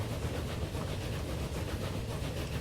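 A train in the video game Transport Fever 2 labours up a hill, giving a steady, dense rumbling drone with faint rhythmic clatter that holds at an even level throughout.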